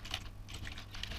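Typing on a computer keyboard to enter email addresses, a quick run of close key clicks in uneven bursts over about a second, with no talking.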